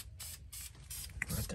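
Spray paint hissing from an aerosol can onto an F-150 pickup truck, several short close bursts with brief gaps between them.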